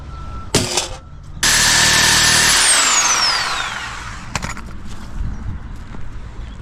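A Sawzall reciprocating saw cutting with its blade, a loud buzzing run of about three seconds that fades off, set between sharp clanks and thumps and some low background noise.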